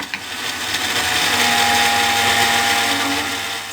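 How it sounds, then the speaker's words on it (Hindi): A kitchen blender grinding tomatoes with green chillies and a tablespoon of salt for chutney, a loud, steady close-up whirring roar that holds throughout. "सबसे पहले टमाटरों को ग्राइंड कर लेंगे।"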